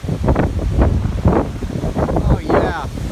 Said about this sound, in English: it is always windy here in the Texas Panhandle